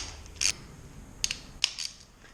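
On a Yamaha Virago brake reservoir, a nut is backed out with a few faint, short metallic clicks and scrapes spaced irregularly across a quiet background.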